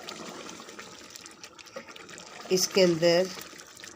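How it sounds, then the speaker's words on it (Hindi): Water poured into a pot of garlic chicken while cooking, a brief splashing trickle rising toward the end as someone talks over it. "थोड़ा सा पानी ऐड करेंगे"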